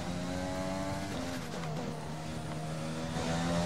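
A Formula 1 car engine in the F1 video game accelerates at Monza during the Italian Grand Prix, a loud, steady high-pitched whine that climbs and shifts pitch with gear changes throughout, with no talking.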